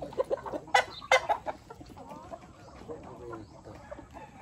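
Chickens in a breeding pen at a poultry farm, a few close clucks and short calls early on, then quieter barnyard murmur with faint background clucking.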